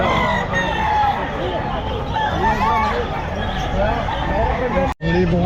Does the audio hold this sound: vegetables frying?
no